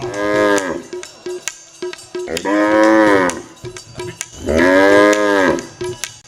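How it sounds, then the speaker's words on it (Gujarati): Cattle give three long, drawn-out moos, each a deep, loud, resonant call like a young male buffalo, with short quiet gaps and faint clinks between them at a Shivratri 2024 folk gathering. "તો પાડો જેવું લાગે પાડા જેવું"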